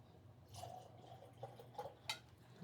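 Glenmorangie whisky pours into a glass with a faint, close trickle and a few soft drips and splashes against quiet background noise.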